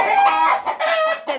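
Hens clucking in a dark henhouse, several close, loud, overlapping calls in quick bursts with a brief dip between them.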